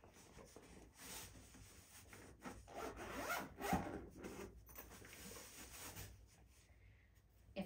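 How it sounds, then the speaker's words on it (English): A zipper is drawn closed around a 59S UV sterilisation travel bag, a steady rasping zip lasting several seconds, close and moderately loud with no talk. "Zip the bag up."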